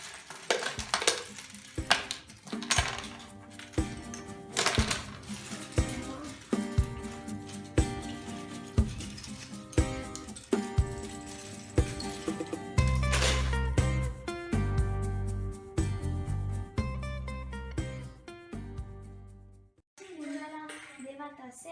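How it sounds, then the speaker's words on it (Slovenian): Red Lego bricks being dropped into a box: repeated small plastic clatters and rattles tumble in quick succession, while music plays and a busy classroom murmurs in the background. "Devata vse rdeče kocke v škatlo od Lego kock"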